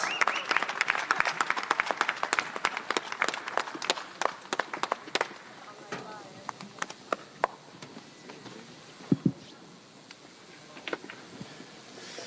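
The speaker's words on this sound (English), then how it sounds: "Round of applause to the champ." Applause for the champion at a boxing press conference: dense, loud clapping that gradually thins out into scattered, fading claps, with a few isolated knocks near the end.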